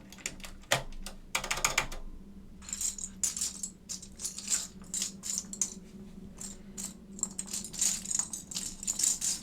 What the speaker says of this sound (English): I'm going to put our big keycaps on first.